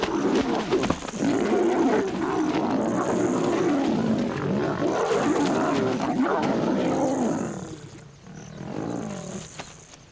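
Lionesses attack a wandering male lion, producing loud, continuous snarling and roaring for most of the span before it eases to lower growls near the end.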